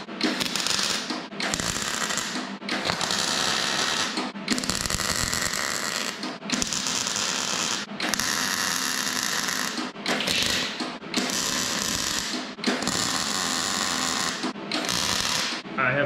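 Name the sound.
welding rusty metal on a Radio Flyer rat rod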